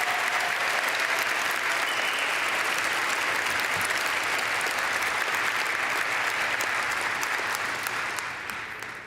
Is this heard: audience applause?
yes